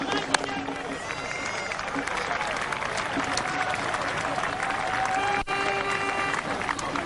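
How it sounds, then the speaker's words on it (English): Steady applause and crowd murmur from spectators at a 1999 World Cup cricket match between the West Indies and Bangladesh in Dublin, continuous and moderately distant, with a commentator speaking over it. "Appreciative crowd here in Dublin"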